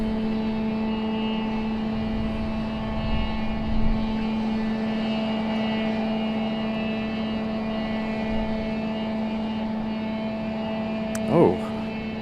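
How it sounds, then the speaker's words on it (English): A steady external aircraft auxiliary power unit hums at Raleigh-Durham International Airport, a constant tonal drone running throughout with a brief rising whine near the end. "Oh, that external APU is annoying."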